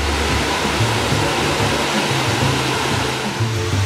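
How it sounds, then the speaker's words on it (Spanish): A waterfall about 50 metres high at Cascadas de Minas Viejas roars steadily, a loud, dense, unbroken rush of falling water with no voices. "que consta de dos caídas de agua, pero que en época de lluvias se forma una sola, con una altura de 50 metros aproximadamente"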